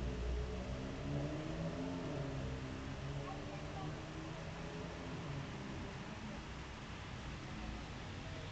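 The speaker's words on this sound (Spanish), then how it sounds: "Si escucháis un poco, veis que por aquí hay ruido, hay coches pasando" Cars pass by outside, a faint steady whir of traffic noise heard through a room, low and continuous, with a voice speaking over it.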